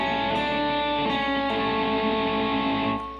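An electric guitar plays a short passage of fretted single notes and held chords. The notes ring together, with a few picked attacks along the way, before the sound fades out at the end. No voices.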